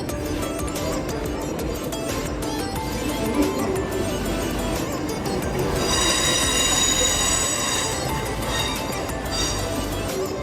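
A Thameslink train runs through London Bridge, wheels squealing and rumbling loudly in a steady, close roar from inside the carriage, with a high metallic screech building midway.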